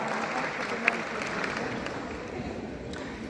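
A conference audience at an international event applauds, continuous crowd clapping heard from a distance with a faint murmur of voices beneath it.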